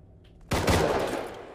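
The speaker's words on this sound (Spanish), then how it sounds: "Escucho disparos, ¿eh?" Gunfire in the video game Rust: a sudden loud burst of rapid shots after a quiet moment, ringing out and slowly decaying, with no talk over it.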